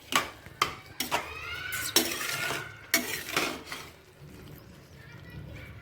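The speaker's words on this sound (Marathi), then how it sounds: "आता आपण यामध्ये गूळ घालूया गूळ घालायचं आणि मिक्स करून घ्यायचं चांगलं" Cracked wheat porridge (lapsi) being stirred in a pot as jaggery is mixed in, with a run of scraping, clinking utensil strokes against the metal, close and fairly quiet with uneven pauses between strokes.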